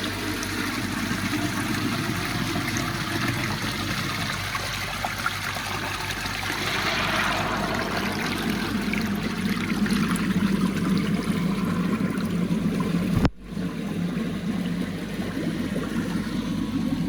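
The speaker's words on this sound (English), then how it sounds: "open the 4-inch line, let the water in" Water pours steadily through a 4-inch pipe into a koi pond filtration system, a constant rushing trickle heard close and unbroken, with a brief sharp knock near the end.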